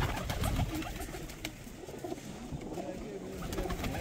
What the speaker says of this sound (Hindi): मलिक साहब की छत पे हम मौजूद हैं दीना में और इनके शानदार कबूतरों का आपको शौक करवा रहे हैं।